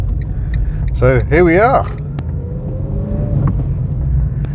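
An old Ford Ka rumbles along the road with a low, steady engine drone from inside the cabin, while someone talks over it near the start.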